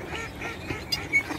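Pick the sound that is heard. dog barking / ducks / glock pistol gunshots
ducks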